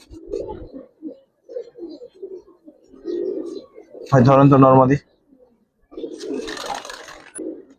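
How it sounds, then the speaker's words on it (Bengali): Giribaz flying pigeons on a rooftop give soft, low throaty coos in repeated short bursts, close by, with someone speaking briefly in the middle and other voices nearby. "এই যে এত পাজি একটা পুরান জাতীয় কবুতর দেখেন মাশাআল্লাহ, দেখেন কতটুকু সুন্দর কবুতর।"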